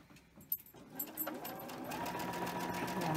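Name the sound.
sewing machine chain stitching fabric binding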